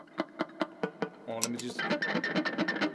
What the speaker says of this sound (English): we tend to be able to hear the pick strokes much louder than the hammer-ons and pull-offs.